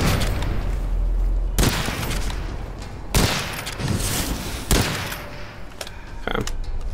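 Loud gunfire in the video game Witchfire, sharp booming shots every second or so over a dense, continuous roar of combat noise.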